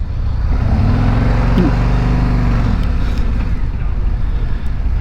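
A 2026 Harley-Davidson Street Glide Limited motorcycle pulls away, its low engine rumble rising steadily and close, with wind buffeting the microphone throughout.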